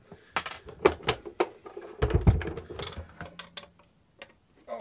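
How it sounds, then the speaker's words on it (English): Small clicks, scrapes and rattles of a screwdriver taking the screws out of a British PAL Nintendo NES console, close and fairly quiet, with uneven taps and one heavier clunk partway through and no talking. "hopefully we can very quickly just take the screws out"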